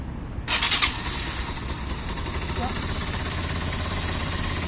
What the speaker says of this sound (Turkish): Motoru güzelce bir dinliyoruz aynı rolantide çalışıyorsa yani ses aynıysa